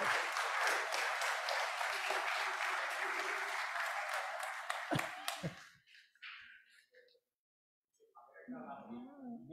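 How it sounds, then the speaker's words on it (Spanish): Applause from a church congregation at a Mass, a dense burst of clapping for about five seconds that tapers off, followed by a pause and then a person speaking. "Un fuerte aplauso para América."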